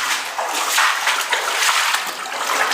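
Footsteps splash and slosh through deep, reddish water inside an underground bunker hidden in the mountains, a steady loud wash of churning water close by with no talking.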